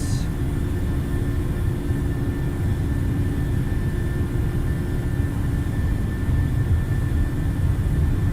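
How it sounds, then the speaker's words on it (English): Boeing 737-800 jet engines at takeoff power in the PMDG flight simulator, a steady loud roar with a low rumble and faint tonal whine that holds unbroken throughout, with no talking. "Takeoff power set"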